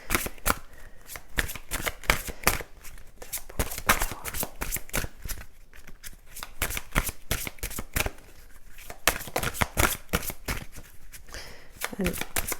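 Tarot cards riffle and slap continuously in a close, brisk shuffle with rapid rhythmic flicks throughout, while someone talks over the shuffling.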